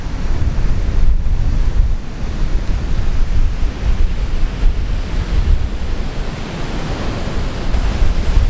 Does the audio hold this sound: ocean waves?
yes